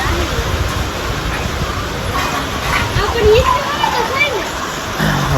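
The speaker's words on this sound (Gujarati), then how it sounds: "વરસાદ હજી ચાલુ છે. વરસાદ બંધ નથી" Steady heavy rain and running water make a dense, continuous rush throughout, with a voice and a faint dog bark heard over it.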